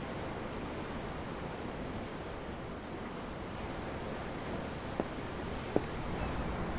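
Ocean waves in the video game Tales of Arise wash in a steady, soft rushing surf heard from a ship's deck, with two faint clicks breaking the even roar near the end.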